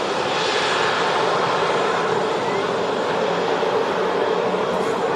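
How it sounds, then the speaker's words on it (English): A Turkish Airlines airliner begins its takeoff roll at Manchester Airport, producing a steady, loud engine roar throughout with a faint voice underneath. "I think we'll get the Star Alliance Turkish on the departure. It's just starting its roll now."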